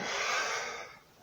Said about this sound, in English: we're breathing in and out loud